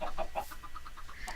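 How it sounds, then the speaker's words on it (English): Chickens cluck in a video game with a quick string of rhythmic clucks and squawks at moderate volume, over a faint background and with no talking. "You might just notice that there's a few more chickens than there used to be."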